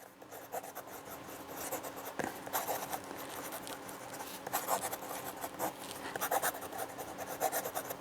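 A fountain pen filled with Diamine ink scratches quickly across paper in continuous close-up strokes, with a soft, dry rasp and small pauses between words.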